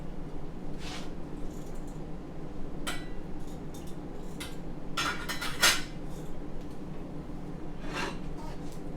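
Tongs lifting artichokes out of a steamer pot in a home kitchen, giving a few scattered metallic clinks and scrapes over a steady low background hum, fairly quiet and close.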